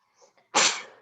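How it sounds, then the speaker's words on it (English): A single loud sneeze indoors during a math lecture, preceded by a faint quick intake of breath and then a sharp close burst that fades out. "Oh, you just sneezed twice."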